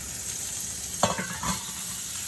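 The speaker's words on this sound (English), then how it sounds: "You want to hear that sizzle." Tomatoes sizzle steadily in a pan over high heat, with a brief clattering stir partway through; no one speaks.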